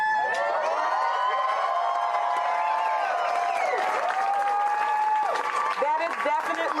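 A crowd at an evening gathering applauds and cheers steadily, with sustained whoops and raised voices riding over continuous clapping throughout.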